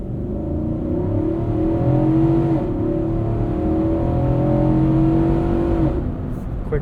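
A 2021 Infiniti QX80 Premium Select accelerates hard in tow mode, its engine droning loudly and climbing in pitch, with quick gear shifts breaking the rising tone as the revs drop and build again.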